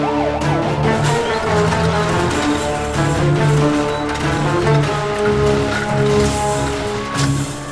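Ambulance siren from an emergency scene in a Tamil web series, loud and close with repeated wavering tones over a dense background of traffic noise, running continuously.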